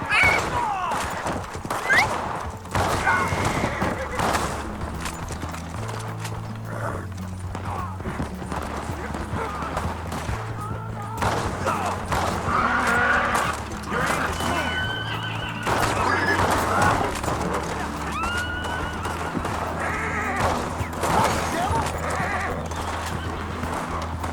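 Horse whinnies and clip-clopping hooves in the Red Dead Online video game, with repeated neighs over steady hoofbeats, game music and occasional voices talking throughout.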